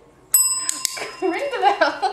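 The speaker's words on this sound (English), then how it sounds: "Ring the bell." A pug puppy rings a small bell, giving one bright metallic ding that rings on briefly and is followed by a second quick strike. Indoor dog-training sounds and light movement follow close by.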